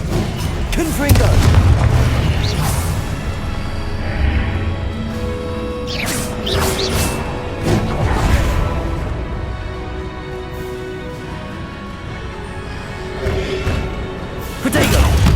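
Spellcasting combat in Hogwarts Legacy, with a Confringo fire spell exploding amid loud booms, thuds and crackling effects across a busy, dense mix.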